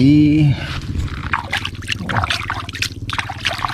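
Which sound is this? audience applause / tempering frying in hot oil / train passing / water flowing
water flowing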